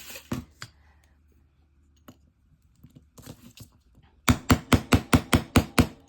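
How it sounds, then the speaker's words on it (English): A small hammer strikes an altered playing card for a junk journal about eight times in a quick, loud, steady run, after some quieter handling clicks and taps. "About 8 whacks, it does the trick."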